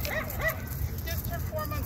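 Dogs at a dog park, including a Cane Corso and a Rottweiler, give short yips and barks amid people talking nearby.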